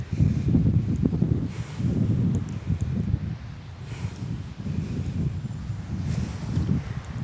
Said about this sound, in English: it's getting a bit windy here